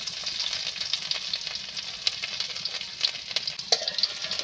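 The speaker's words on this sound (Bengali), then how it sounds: "এইভাবে ভালোভাবে নেড়ে চেড়ে নিয়ে আমি লাল লাল করে নেব রসুনাটা" Garlic fries in a pan with black cumin and cumin seeds, a steady bright sizzle under frequent quick stirring scrapes, close and continuous.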